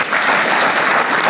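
A crowd at a veterans' recognition breakfast claps steadily, a brief burst of applause with no voices over it.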